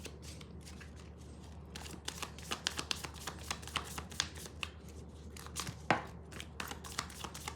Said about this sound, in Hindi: Meanwhile, I'm gonna shuffle these cards.